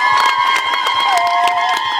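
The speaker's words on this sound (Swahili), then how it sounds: "Naomba tumpigie makofi mengi." A large outdoor crowd at a public roads event applauds and cheers for a government minister, with sustained loud clapping, shouts and whoops and a steady high-pitched tone running underneath.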